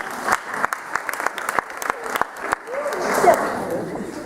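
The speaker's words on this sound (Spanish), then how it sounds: "Un aplauso ahí por la pastilla anticonceptiva" Audience at a university lecture on abortion rights claps in scattered, uneven bursts that build into a fuller round of applause near the end.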